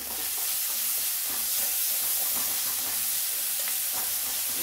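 Ginger garlic paste, green chili and curry leaves sautéing in a pan, a loud, dense, unbroken sizzle with busy stirring scrapes underneath, close up and without any speech.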